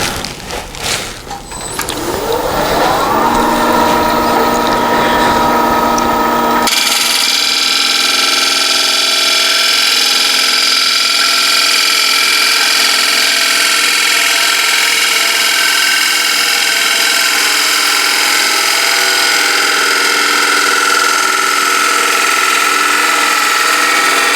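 A chisel cuts a beechwood yarn bowl spinning on a wood lathe, giving a steady, loud hiss and shave against the motor's hum. It runs continuously after a brief start-up, with no talk.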